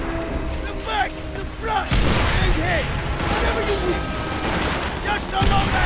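Gunfire and explosions from a Call of Duty: World at War battle, with dense, continuous bursts of shots and booms layered under shouted speech and game sounds throughout.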